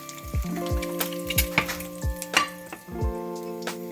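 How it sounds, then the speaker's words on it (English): An egg fries in a pan, with a steady close sizzle and crackle throughout and occasional light scraping from a utensil. "and then we just give her a little flip like that. And the egg is almost ready. I'm cooking for a couple of minutes."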